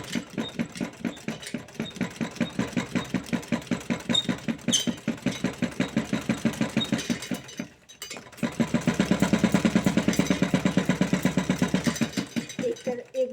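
A sewing machine stitches a blouse seam in rapid, even mechanical bursts, pausing briefly near eight seconds before running again steadily and slightly louder; no voice is heard.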